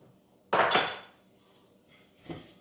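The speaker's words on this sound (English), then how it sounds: "I'm going to melt the butter in my frying" A metal frying pan clanks against a stovetop as it is set down to melt butter, one loud clattering knock followed later by a softer second clink.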